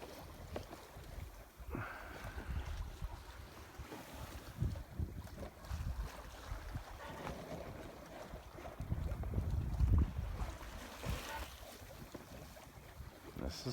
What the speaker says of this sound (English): This is sailing.